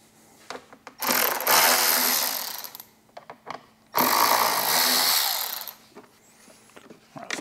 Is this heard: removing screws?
yes